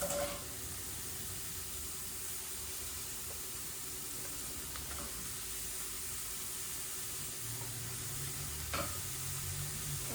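Carrots tip into a hot pan for a vegan teriyaki bowl and fry with a steady, close sizzle and hiss, a few soft scrapes and knocks breaking through the continuous crackle.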